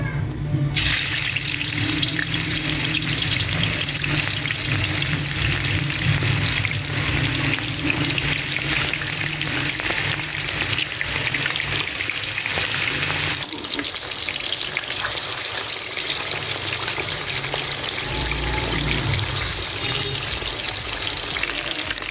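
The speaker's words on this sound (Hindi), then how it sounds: "अब मैं इसको डीप फ्राई करूंगी। ऑयल हमारा गर्म हो चुका है।" Chicken deep frying in hot oil gives a loud, steady hiss and crackle that fills the whole stretch, with a slight shift in texture partway through and no voices.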